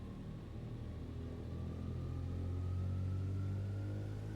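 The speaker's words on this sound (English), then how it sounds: "Let's throttle up." Twin engines of a Heinkel He 111 bomber in a flight simulator drone steadily, the low rumble growing slightly louder and rising in pitch as they throttle up, with no talking.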